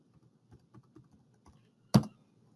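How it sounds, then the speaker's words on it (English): A computer keyboard being typed on, as a few soft, scattered keystrokes build to one sharp, louder key press near the end, recorded close in a quiet room. "I could go in and type my password here"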